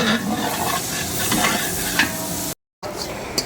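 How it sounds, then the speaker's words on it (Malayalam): Steady sizzling and scraping as grated coconut is stirred and roasted in a hot pan for mutton curry, continuous and close, with a brief dropout near the end. "മെയിൻ പണ്ടാരി തേങ്ങ വറുത്തോണ്ടുണ്ട്"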